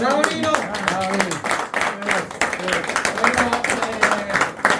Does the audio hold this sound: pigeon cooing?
no